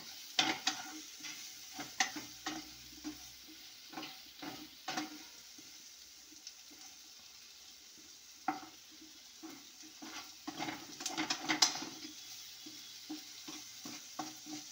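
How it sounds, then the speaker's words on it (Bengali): Vegetables for semolina upma being stirred with salt in a pan, a quiet background sizzle under repeated irregular scraping and clinking of a spoon against the pan, loudest in bursts near the start and end. "লবণ দিয়ে সবজিগুলোকে আমি ভালোভাবে লবণটার সাথে মিশিয়ে নেব"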